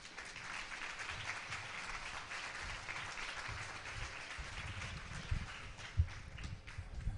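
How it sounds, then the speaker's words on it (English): Applause from a conference audience at a Korean science and technology convention as a university vice president steps up for closing remarks; a steady, moderately distant wash of clapping with a few louder thumps, no talk. "please give him a round of applause"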